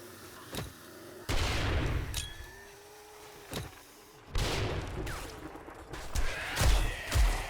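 Turrets fire bursts into a zombie horde during a Darkness Falls horde night in 7 Days to Die, loud clustered volleys and crashes separated by brief lulls, with debris and smashing noises mixed in.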